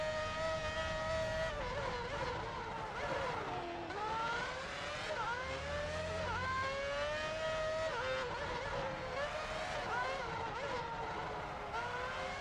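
Formula 1 race car engines in the F1 Championship Edition game on PS3 scream continuously at high revs, pitch sweeping up and down as cars pass close by, loud and unbroken.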